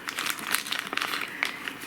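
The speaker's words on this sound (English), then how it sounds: "ease it into the plastic bag" A plastic bag crinkles and rustles in irregular bursts as seeds for chitting are eased into it, close by and fairly quiet, with no talking.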